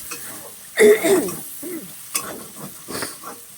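Prawns fry in a pan with bottle gourd, a soft sizzle broken by a few sharp bursts of stirring and utensil scraping, close and intermittent.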